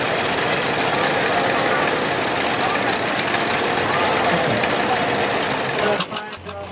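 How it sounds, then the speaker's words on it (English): Tractor engines idle at a farming heritage festival, a loud continuous rumbling chug with mechanical knocking that drops off sharply near the end. "Engines, horns, and clanging metal."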